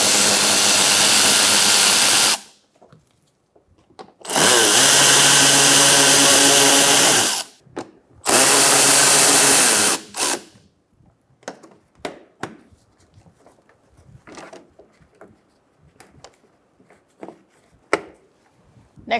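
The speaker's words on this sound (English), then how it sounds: "Next, we're going to take out these 3 bolts," A power tool spins out 7mm bolts on a Buick Encore during washer reservoir replacement: three loud whirring bursts of a few seconds each, followed by quieter clicks and handling noises, close up and without talk.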